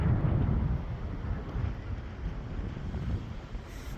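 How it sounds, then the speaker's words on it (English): Coastal wind gusting through trees, a steady low rushing roar with buffeting against the microphone, continuous and fairly loud, no voices. "We got the wind moving the trees."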